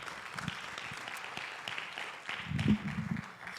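A church congregation claps for the Lord after a prayer during a Spanish-language sermon, soft and somewhat distant, swelling a little toward the end.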